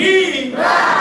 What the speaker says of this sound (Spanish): Vamos a pedir pues tres hurras por la promoción